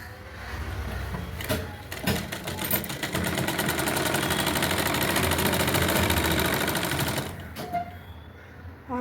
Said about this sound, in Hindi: वैसे ही हम इसमें भी सिलाई लगाएंगे।